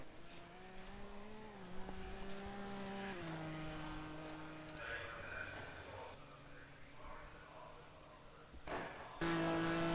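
GT1 race cars at Laguna Seca are faint and distant, a sustained engine drone with shifting pitch under commentary. A louder burst of engine noise comes near the end.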